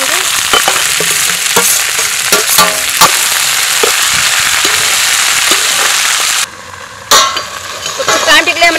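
Barbati beans and potatoes frying in a pan, a loud steady sizzle with scraping stirs and utensil knocks close up, briefly dropping before the hissing and stirring resume.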